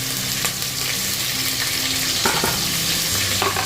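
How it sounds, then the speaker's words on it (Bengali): Onions frying in a pan at home with steady close sizzling and a few scraping stirs, the crackle continuous throughout with no talk. "পেঁয়াজ ভাজা ভাজা হয়ে গেছে"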